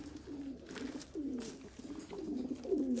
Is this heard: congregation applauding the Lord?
no